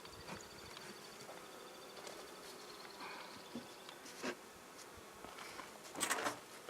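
Honeybees buzz softly and continuously around a comb-building hive on a Colorado homestead, a faint busy hum with occasional louder passes close by.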